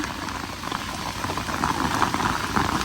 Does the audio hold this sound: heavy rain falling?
yes